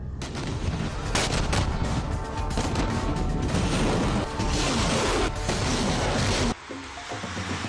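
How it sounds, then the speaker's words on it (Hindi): Chinese army artillery firing shells into the sky in news footage makes dense, loud, rolling bursts of booms and crackling blasts, nearly continuous before a sudden drop near the end. "आसमान में गोले दाग रही है लाल सेना।"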